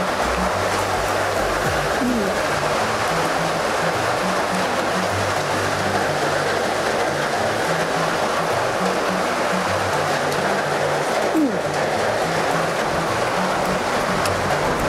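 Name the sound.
heavy rain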